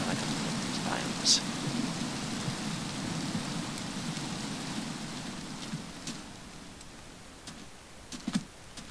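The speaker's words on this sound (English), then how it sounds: "Why is it always raining every time I come to these biomes?" Steady rain falls in the Minecraft video game, a continuous hiss of drops with a few brief sharper patters near the end and faint voices in the background.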